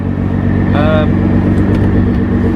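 A Nissan GT-R with an Armytrix exhaust idles with a deep, steady rumble in normal mode, around 80 decibels, and someone speaks briefly over it.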